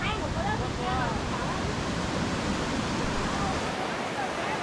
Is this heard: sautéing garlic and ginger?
no